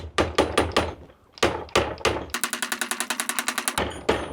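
An 80 mm nail is driven into wood by hammering with a Grosser cordless drill, first as spaced heavy knocks, then a rapid machine-gun-like burst of blows before a final thud.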